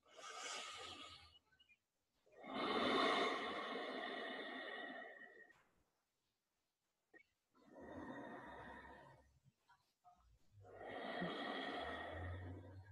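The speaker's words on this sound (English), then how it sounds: "And then you take deep breaths here." Slow, deep breaths are drawn during a yoga stretch, sounding as four long, close, airy inhales and exhales, each lasting a few seconds, separated by brief pauses, with no talk.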